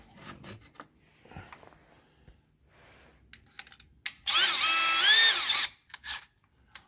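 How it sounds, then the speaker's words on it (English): A short burst of drilling with a left-handed drill bit on a Detroit DD15 engine, a high whining tool grinding steadily for about a second and a half after scattered clicks and handling noises. "So we're running the left-handed drill through"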